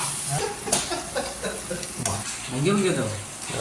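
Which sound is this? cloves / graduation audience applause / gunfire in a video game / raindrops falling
cloves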